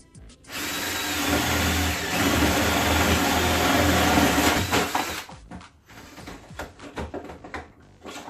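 A power drill bores a hole into wood, loud and close, with a sustained whine for about four seconds before it winds down into scattered handling clatter.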